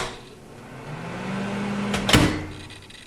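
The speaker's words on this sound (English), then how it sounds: "So this is a video about fixing a microwave where the fan starts when the door is opened." A microwave oven with a fault that starts its fan when the door is opened hums steadily, with a sharp clunk of the door or mechanism partway through; no talking.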